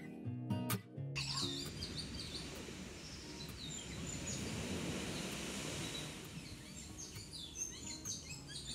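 Small birds chirp and twitter at a beach at sunset, scattered bright calls over a steady low rumble of wind and water, with a few brief thuds at the start.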